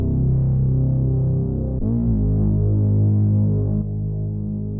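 A distortion plugin in a music production session drives a sustained, gritty, saturated tone, dense and buzzing low down, with a shift in character partway through as the input gain rises.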